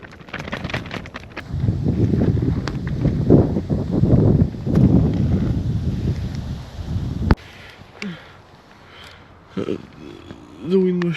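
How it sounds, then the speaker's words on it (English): At night, strong wind batters a tarp shelter, making steady loud roaring and flapping rustle for about seven seconds. The wind then drops to a quieter, patchier rustle with voices murmuring close by. "The wind was shaking the shelter like crazy and it's falling on us."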